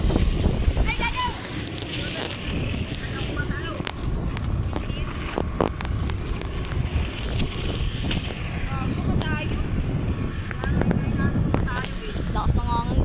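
Strong gusty wind buffets the microphone outdoors while a kite is flown, a steady roaring rush with periodic louder surges, as people talk and shout excitedly over it.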